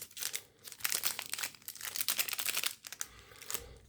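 A foil booster-pack wrapper for the Pokémon Sword and Shield trading card game is torn and crinkled open by hand, giving close, irregular bursts of crackling and rustling with brief pauses between.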